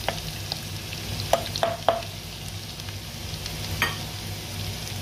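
Garlic frying in oil until golden brown, a steady close sizzle with a few sharp scraping stirs of a utensil in the pan.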